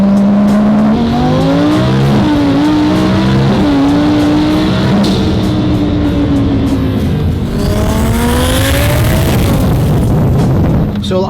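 A Lamborghini Huracan fitted with a Stage 2 kit accelerates hard, its engine note climbing through rising sweeps with a shift partway, loud and close, and a voice is faintly audible under the roar.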